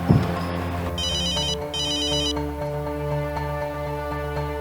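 Telephone ringback on an outgoing call in a Hindi-dubbed film scene, with two short electronic ring bursts in a row over a sustained background music drone.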